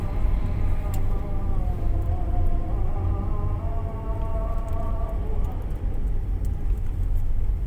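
An angkot minibus driving past on a road, a close rumbling engine with a tonal whine rising and falling through the middle, amid steady traffic noise.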